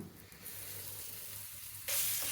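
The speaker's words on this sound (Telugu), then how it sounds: "పచ్చివాసన పోయే వరకు దీన్ని వేయించుకుందాం" Steady, close oil sizzling of garlic chili paste frying, a continuous crackling hiss that grows louder and brighter near the end.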